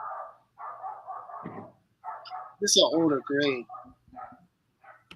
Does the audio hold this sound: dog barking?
yes